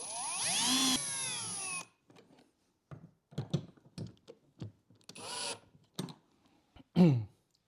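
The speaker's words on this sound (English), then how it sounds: "now I'll just be using my drill to make matters a bit faster" A power drill drives threads while fitting a MOLLE panel to an INEOS Grenadier, first one near, high whirring burst of about two seconds, then scattered knocks and handling noises, with a second brief whir later.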